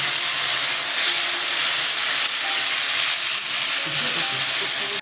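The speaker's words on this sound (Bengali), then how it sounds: "আদা কাঁচা লঙ্কা রসুন ছেড়ে দিলাম" Ginger, green chili and garlic fry in hot oil with a loud, continuous crackling sizzle that stays close and even, with small bubbling pops inside it and no talking.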